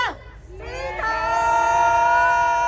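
A concert crowd cheers and screams in a sustained, rising roar to bid farewell to 2025 and welcome 2026 at a New Year's countdown show, swelling louder and holding steady.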